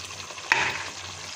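Chicken frying in a masala gravy for a potato-and-pea curry, a steady soft sizzle with one brief stir or clack near the middle, close and fairly quiet.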